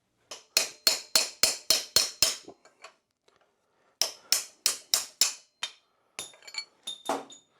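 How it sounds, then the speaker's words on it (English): Sharp metallic hammer strikes on a punch driving a bearing race out of a Honda CR125R two-stroke motorcycle ring out in two quick, evenly spaced bursts of about seven blows each, close and loud, ending with lighter taps. "get our bearing race punch and get Claudia and start hammering on these things"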